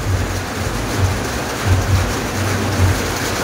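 Steady rain falls outdoors in a continuous broadband hiss, fairly loud and close, with a low rumbling pulse underneath and no voices.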